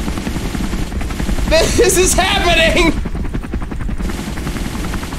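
Helicopter rotor drone with bursts of gunfire in a Christmas horror video game, a steady loud mechanical roar running throughout while a person shouts excitedly over it.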